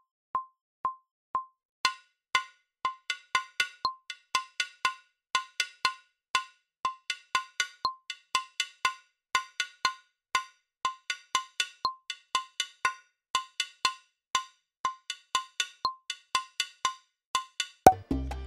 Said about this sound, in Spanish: La campana de timbal es el patrón que ejecuta el timbalero en la campana